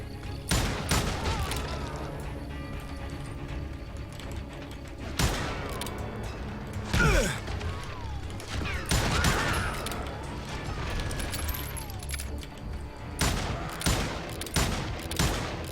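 Gunfire in the Western shooter Call of Juarez Gunslinger, with loud, sharp shots going off in irregular bursts and scattered single reports over a busy background of game sounds.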